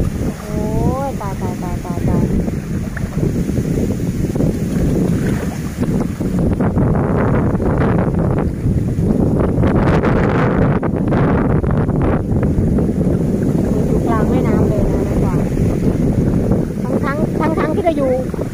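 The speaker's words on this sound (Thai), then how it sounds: "ที่ทะเล ลมแรงมากนะคะ" Strong wind buffets the microphone beside floodwater, a steady roar with water rushing, lasting throughout; someone speaks at times over it.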